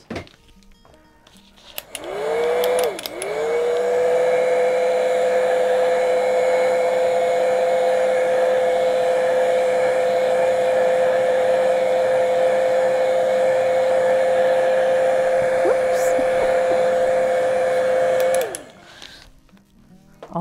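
Hair dryer blowing to dry paint on a painting, switched on after a short lead-in, then a loud steady whirring drone for about fifteen seconds before it cuts off, with no talking.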